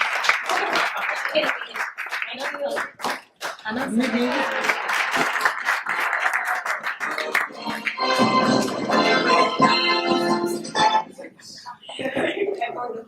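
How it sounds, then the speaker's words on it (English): A conference audience claps at a business event, giving a burst of scattered applause in the first few seconds. Afterwards someone speaks into a microphone over the room. "Okay, clap your hands, please."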